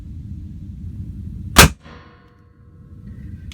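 A single sharp handgun shot rings out at close range, one loud crack with a brief ringing tail over a low background rumble, fired from a firing grip on a pistol with no magazine inserted.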